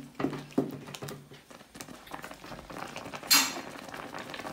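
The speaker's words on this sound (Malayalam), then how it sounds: "ഒരു തവിയുടെ കണ വെച്ച് ഇളക്കാനാണ് സൗകര്യമായിട്ടുള്ളത് നമുക്ക്" A ladle handle stirs a Kottayam-style chicken curry mixture in a pot, with a few clinks against the metal early on, then a soft scraping patter and one brighter clatter near the end.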